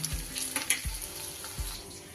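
Cauliflower and paneer kofta frying in hot oil, a steady close sizzle with a few sharper pops and low thuds of the pan or spoon, no voices.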